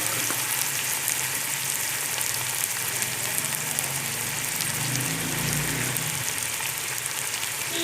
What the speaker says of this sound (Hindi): हल्की आंच पे इसको भूनना है अच्छे तरीके से।